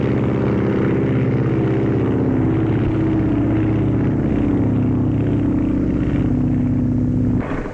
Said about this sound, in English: Captain Frank Hawks climbs aboard his Lockheed to set a new transcontinental mark